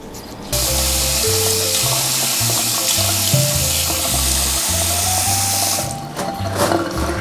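Tap water runs steadily into a sink as a face scrub is rinsed off at home, a loud, continuous wash with faint mechanical hum beneath, easing off near the end.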